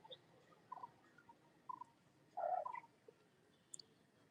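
Faint, scattered bird calls drift across a quiet eco park lawn, short chirps and one brief louder warbling phrase in the middle, all distant against a low ambient hush with no talking.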